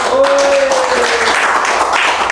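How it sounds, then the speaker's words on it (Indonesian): Audience applause for Pak Haji Wawan in a podcast studio, a dense, steady wash of clapping filling the whole moment, with a brief tonal whistle-like sound near the start. "Tepuk tangannya buat Pak Haji Wawan."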